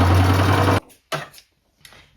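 A sewing machine stitches a sleeve onto a thrifted dress, running in a steady close whir for under a second before stopping, followed by a few faint handling clicks.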